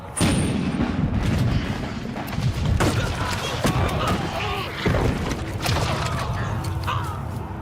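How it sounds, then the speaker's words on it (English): Cannon firing volleys of mitraille canister shot on a Waterloo battlefield, with heavy booms and crackling blasts rolling one after another, loud and dense over a chaotic background. "Wellington responds with volleys of mitraille."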